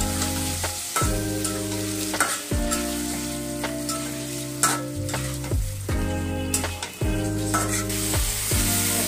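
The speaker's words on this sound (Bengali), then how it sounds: "টমেটোটা অ্যাড করে দিচ্ছি" Tomato and potatoes sizzle in a pan for a rui fish curry, a steady frying hiss with occasional stirring scrapes, partly covered by loud pitched background music.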